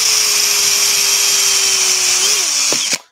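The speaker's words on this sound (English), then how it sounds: "we're just going to drill through our little holes" A power drill drilling through wood for mini skateboards whines at a steady high pitch, close and loud, then winds down briefly before cutting off.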